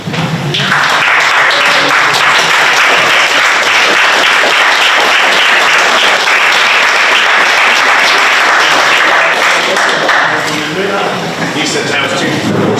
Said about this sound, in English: I would like to stand up and give a round of applause to all of our businesses